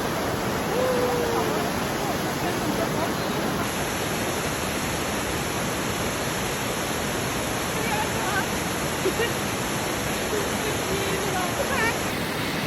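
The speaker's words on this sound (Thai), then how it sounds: "น้ำตกธรรมชาติ" Steady rushing roar of a natural waterfall in Sweden, constant and full, with no other sounds rising above it.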